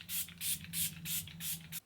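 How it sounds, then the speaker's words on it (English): Several quick hissing sprays of Catrice HD Active Performance Freezing Spray fire from a pump bottle onto a face in a steady rhythm, close and fairly quiet, with no talking. "I'm going to go in with the Catrice HD Active Performance Freezing Spray and set my face."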